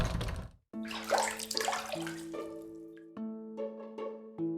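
Bath water in a video game dating sim: gentle sloshing and splashing, then steady running water from a tap filling a bathtub, with a sustained tonal hum layered over it, clear and fairly close.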